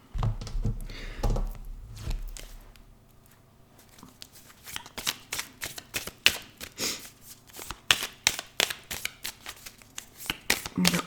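A deck of cards is cut and laid down. Soft shuffling and cutting sounds come first, then a quick series of crisp taps and snaps as the cards land on the table, with a voice talking over them.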